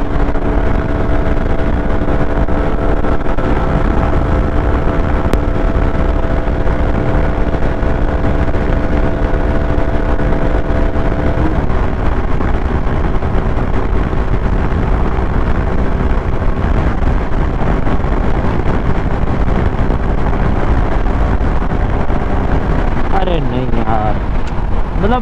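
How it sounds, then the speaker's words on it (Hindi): Honda SP 160 motorcycle held at full throttle in fifth gear, a loud sustained engine drone under heavy wind rush, steady for most of the run before the tone shifts near the end. "फिफ्थ गियर फुल थ्रॉटल है अभी अपन"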